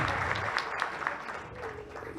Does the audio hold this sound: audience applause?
yes